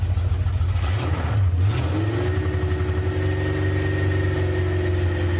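A 1972 Plymouth Duster engine rumbles steadily at close range, revving briefly before settling into a deep, even idle with a droning tone.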